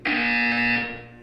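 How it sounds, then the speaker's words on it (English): A loud, harsh electronic buzzer sounds once in the Portal 2 video game, a flat sustained tone that cuts off and fades after about a second. "You will hear a buzzer"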